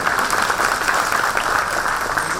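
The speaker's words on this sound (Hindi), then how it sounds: "एक बार जोरदार तालियां हो जाए मेरे लिए।" A seated audience at a talk gives a burst of applause, a loud, even patter of many hands clapping without break.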